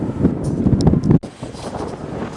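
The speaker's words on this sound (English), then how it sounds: "Geez, that wind has picked up now" Wind gusts across an open Russian village, a rough buffeting rush against the microphone that rises and falls, with one sharp brief drop near the middle.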